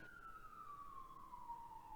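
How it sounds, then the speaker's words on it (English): Emergency vehicle sirens wail in the distance, one faint, steady tone sliding slowly downward over low background rumble, with no talk. "I can hear lots of sirens going off around you."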